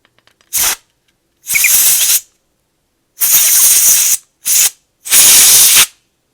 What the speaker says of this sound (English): Now we're going to hit this with a little canned air.